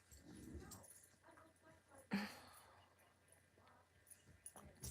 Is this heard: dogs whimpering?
yes